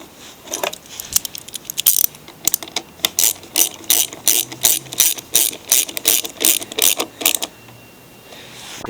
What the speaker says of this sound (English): I like to use a 5/16 socket.